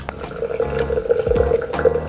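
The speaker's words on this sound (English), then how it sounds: "Pour one third of the hot water." Hot water poured over coffee while brewing breakfast, a steady near trickle of liquid running continuously for about two seconds with a faint wet splash underneath.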